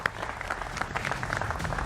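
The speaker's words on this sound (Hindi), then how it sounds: "उसका भी अभिनंदन है जोरदार तालियों के साथ।" Brief burst of studio audience applause during a televised Hindi election debate on the Bengal vote, dense clapping at moderate level throughout the short stretch.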